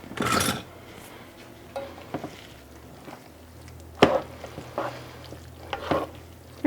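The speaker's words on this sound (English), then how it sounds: "I need some something else to stir this with." Pumpkin alfredo being stirred in a pan, with a burst of scraping near the start, then intermittent clinks and scrapes of a utensil against the pan, close and fairly loud, with no talk.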